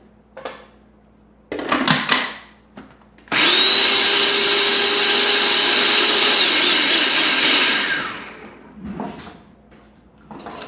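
A food processor grinds fresh vegetables in a steady, loud whirring run of about five seconds, then winds down, with clunks and rattles of the lid and bowl before and after.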